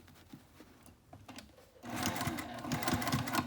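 A sewing machine stitches a fabric sling with a narrow foot, a faint intermittent patter that swells into a steady, louder run of rapid needle strokes.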